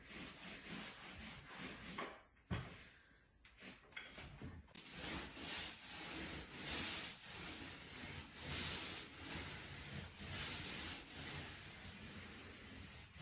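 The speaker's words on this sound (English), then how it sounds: "Good control, good pressure on the roller." A paint roller rolls paint onto a wall in repeated close, rough rubbing strokes with a steady rhythm, briefly pausing before continuing.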